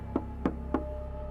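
Three evenly spaced knocks land on a wooden cabin door in a remote snowy spot, close and firm with a low hum underneath and no voices.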